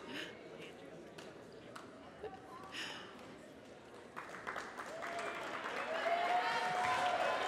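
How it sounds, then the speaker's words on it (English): Applause from the crowd at a high school basketball game between Blue Valley Southwest and Olathe Northwest, starting as scattered claps and thuds under a commentator's talk, then swelling into fuller clapping and cheering over the final seconds. "Maybe applauding the officials and Coach Isham at the same time."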